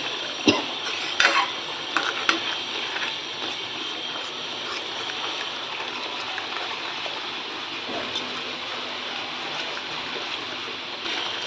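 A spoon stirs a thick dhaba-style egg masala gravy in a pan. A few sharp clinks at the start give way to a continuous soft bubbling hiss, close by and with no talking.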